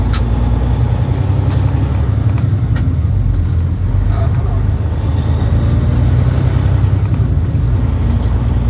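A car driving and making a right turn at a road intersection, with a steady low engine and road rumble throughout, a few faint clicks and knocks on top, heard from inside the cabin.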